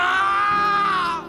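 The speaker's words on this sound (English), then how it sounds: "they hear a man scream" A man lets out a loud, sustained scream lasting about a second, strained and high-pitched, then fading abruptly at the end.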